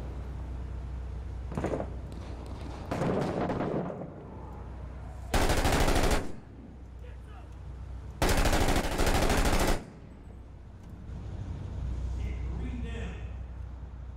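Two long, loud bursts of automatic gunfire in Six Days in Fallujah, each lasting over a second, separated by quieter stretches with speech and background game sound.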